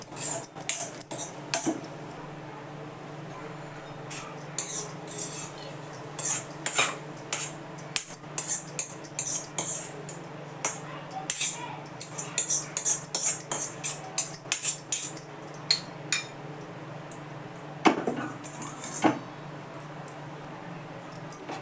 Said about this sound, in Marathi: आता हे दाणे एका बाउलमध्ये काढून घेते